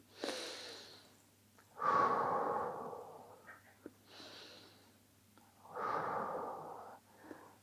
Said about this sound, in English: Take a few deep breaths.